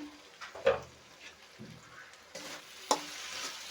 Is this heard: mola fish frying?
yes